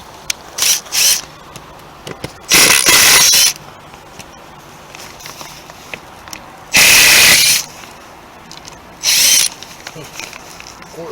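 A power drill whirring in three or four loud bursts of about a second each, backing screws out of boards held with wiggle wire on a homestead, with quiet gaps and small clicks between runs.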